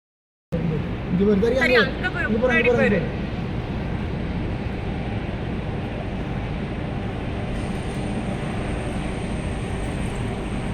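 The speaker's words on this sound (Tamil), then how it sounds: "எல்லா சைட்லேயும் ஹெலிகாப்டர் ஏரோப்ளைன் எல்லாமே வந்து போயிட்டுருக்கோம்" Aircraft fly overhead during a Merdeka independence day celebration in Putrajaya, Malaysia, a broad steady roar that fills the whole stretch, with a crowd talking over it at first.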